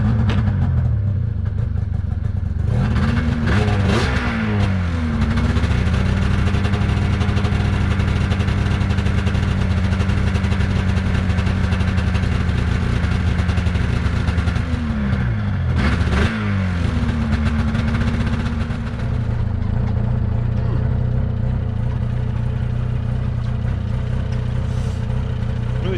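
A snowmobile engine idles roughly and unevenly for the whole stretch, its steady low drone broken by a couple of surging revs and stumbles, loud and close with no talking.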